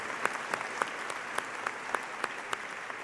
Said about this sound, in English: A round of applause for all the hard work that people have put in.